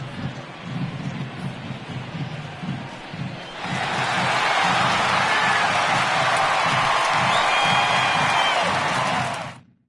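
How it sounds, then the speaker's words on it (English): A home crowd in the video game MLB The Show 19 breaks into a sustained ovation of cheering and applause, rising suddenly after a commentator's voice and holding loudly before fading out. "he receives a nice ovation from this home crowd"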